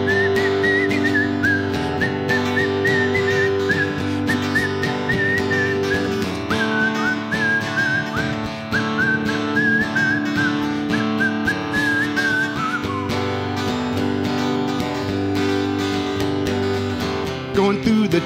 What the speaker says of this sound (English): All right, we're gonna whistle.